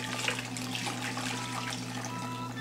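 A hot crème brûlée mixture pours through a classic kitchen strainer, a soft continuous trickle and patter of liquid over a steady low hum, quiet and close.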